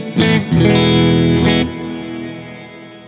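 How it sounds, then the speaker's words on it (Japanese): Electric guitar chords through a Strymon Cloudburst pedal set to a long reverb that turns ambient and effect-like. Two loud struck chords bloom into a wide, smeared wash, and the sustain slowly fades away with no voices. "さらに行くと、だんだんエフェクティブな感じになってきます"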